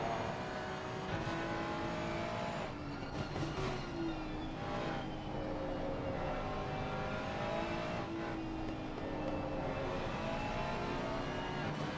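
Race car engines in a sim racing game at Spa-Francorchamps, including a Ferrari, drone and rev steadily through the whole stretch, pitch rising and falling as cars accelerate, with no talk.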